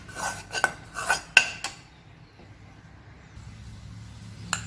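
Roasted gram flour for besan laddu being mixed in a pan, a few scraping, rasping strokes of a spoon against metal in the first two seconds, then near silence with faint low background and one last brief scrape.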